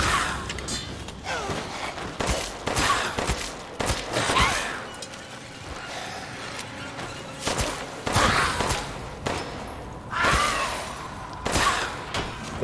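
Gunfire in the survival horror game Resident Evil Village, scattered loud shots and impacts at irregular intervals amid rumbling game ambience and thuds, with no talk over it.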